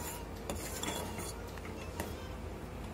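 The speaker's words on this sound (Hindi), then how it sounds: "इसको भी हम अच्छे से हिलाते हुए ऐसे मिक्स करते हुए मिला लेंगे" A spoon stirs turmeric milk in a cooking pot on a stove, giving a steady scraping, rubbing clatter with light metallic clinks against the pot, close and continuous with no talk.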